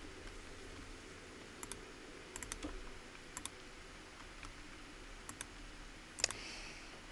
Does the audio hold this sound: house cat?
no